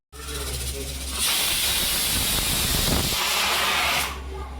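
A pressure cooker with moong dal and turmeric inside vents steam as a loud, steady hiss for about three seconds over a low hum, with a voice present nearby.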